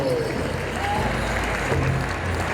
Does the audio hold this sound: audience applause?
yes